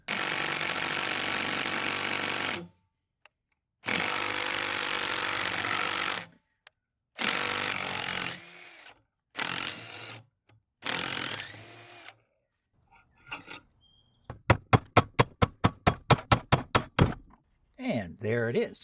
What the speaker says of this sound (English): We'll need to remove this bolt.